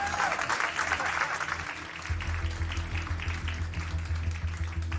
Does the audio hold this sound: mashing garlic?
no